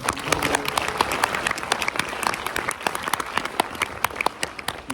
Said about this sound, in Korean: 친구들 그리고 우리 선생님들에게 다 같이 감사의 박수 한번 부탁드립니다